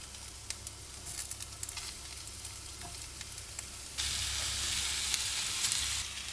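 Venison pieces hit a hot pan for a deer stew, a quieter sizzle with stirring clicks swelling midway into a loud, dense, continuous frying hiss close by, with no voices.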